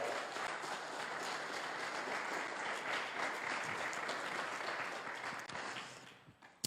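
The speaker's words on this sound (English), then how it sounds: "let's give it up for David and Victoria Henderson" Church audience applauding a couple, sustained dense clapping filling the room at steady loudness for several seconds before tapering off near the end.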